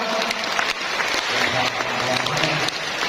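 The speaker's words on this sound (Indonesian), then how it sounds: "bolehkan tepuk tangan juga untuk Pak Handoko ya" An audience at a BKKBN event in Jember, East Java, claps for Pak Handoko, a continuous close-packed round of applause that holds steady, with a little speech underneath.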